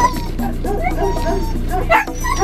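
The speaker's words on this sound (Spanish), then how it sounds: "vas un perro chiquitillo por ahí, ¿no?" A small dog yips and barks repeatedly in quick, high-pitched bursts, fairly close, with a brief louder yelp near the end, somewhere out among sheep.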